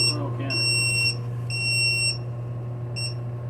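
Smoke alarm beeping indoors during a tankless water heater replacement, three bursts of bright repeated high beeps with gaps, over a steady low electrical hum.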